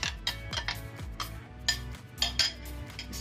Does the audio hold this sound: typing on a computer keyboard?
no